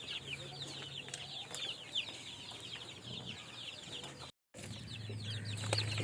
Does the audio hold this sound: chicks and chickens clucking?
yes